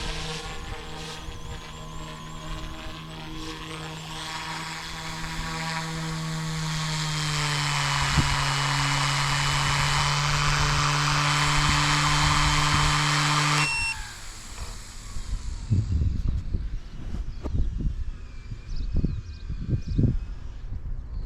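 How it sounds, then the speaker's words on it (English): Eachine E190 Huey RC helicopter flying nearby in a park, a steady high-pitched electric motor and rotor whine with a rising tone that holds loud for about fourteen seconds, then cuts out abruptly, leaving scattered outdoor bumps and rustles. "awesome wee little helicopter this guy"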